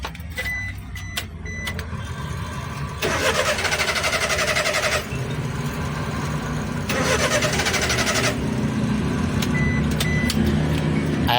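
A minivan engine with a bad fuel pump cranks repeatedly without catching. Two long bursts of starter whirring sit over a steady low background rumble, and no speech is heard.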